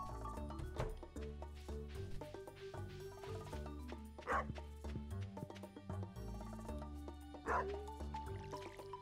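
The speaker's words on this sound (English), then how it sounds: "there's my dog" In the farming video game Stardew Valley 1.6, a dog barks in several short, spaced bursts over steady in-game background music, with no talking.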